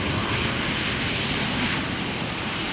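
A Trade Air jet in full colourful livery arriving at Amsterdam Schiphol from Zagreb, giving a steady, loud broadband engine roar that fills the whole moment with no voices.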